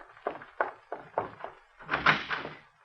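A door being opened in an old-time radio detective drama, heard as a series of close wooden knocks and thunks, then a louder rattling clatter of the latch and door, with no voices.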